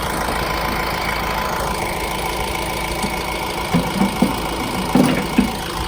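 A 2014 Honda CR-V engine idles smoothly with a steady low hum, a few soft knocks and clicks near the end.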